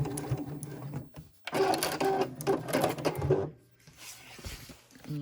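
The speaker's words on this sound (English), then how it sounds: "And then back stitch again at the other end." A sewing machine back stitches at the end of a seam on a beginner zipper pouch, with two close, loud bursts of rapid stitching split by a brief pause, then quieter handling noise.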